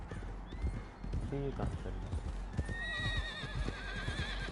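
A horse whinnies in Red Dead Redemption 2, a high wavering neigh rising partway through over clip-clopping hooves and game ambience, while someone speaks briefly.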